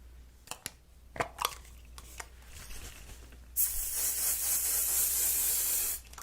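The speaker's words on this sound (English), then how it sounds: "I'm just going to use this Garnier Patrice Full Control hairspray." Garnier Fructis Full Control hairspray gives one steady hiss of about two and a half seconds onto hair, after a few soft taps and rustles while hair is handled.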